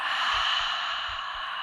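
A deep, steady exhale during a guided yoga breathing exercise, a soft sustained breathy rush heard close and alone, with faint low thumps beneath.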